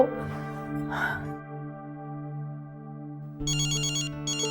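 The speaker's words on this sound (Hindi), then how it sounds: "अम्मी मैं कॉल रिसीव करती हूँ।" A phone ringtone plays a repeating electronic melody, clear and close, with a brief breathy sound from a person near the start.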